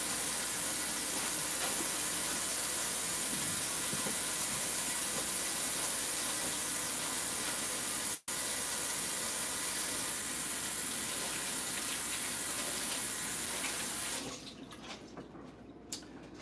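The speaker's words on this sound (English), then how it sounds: "Rinse all the blood off, all the residue, rinse all your meat off." Hissing, steady flow of kitchen tap water pouring over raw pork to rinse away blood, loud and continuous for most of the stretch before shutting off and leaving quiet room sound.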